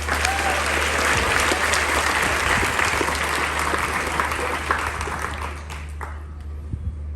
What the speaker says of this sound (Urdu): ایک بار اپنے لیے تالیاں بجائیے